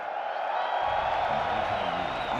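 An esports crowd at an Evo 2023 Guilty Gear -Strive- top 6 tournament roars in a sustained, loud wash of cheering and noise from the start of a match.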